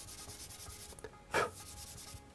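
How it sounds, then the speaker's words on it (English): A pencil eraser rubs on paper in soft, close, scratchy strokes, with one louder swipe near the middle. "I'm going to hit this very lightly with my pencil eraser"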